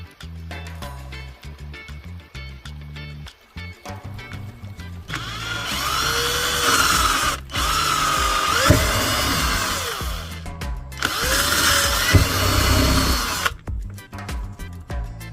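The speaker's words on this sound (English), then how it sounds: "you can mark the cap first to determine where to drill the hole" A power drill bores a hole through a plastic bottle cap in loud, sustained whining bursts, two long runs separated by a short pause, with clattering handling noises before and after.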